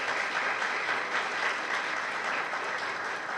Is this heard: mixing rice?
no